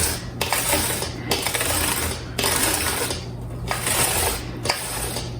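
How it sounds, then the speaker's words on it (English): A small onion rubbed over a metal hand grater by a gloved hand, producing loud, close, rasping strokes in a steady rhythm of about one pass per second, with no talking. "It's a small onion, grated, and I'm just going to use the same grater"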